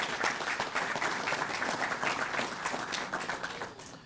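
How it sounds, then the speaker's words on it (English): An audience at a police promotion and swearing-in ceremony gives a round of applause, sustained moderately loud clapping from a crowded room that tapers slightly toward the end. "Give Ron a round of applause."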